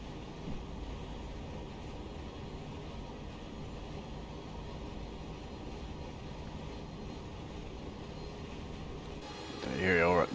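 A Class 707 electric train in Train Simulator Classic throttles up on an uphill grade, giving a steady, even rumble of running noise that swells louder and harsher near the end.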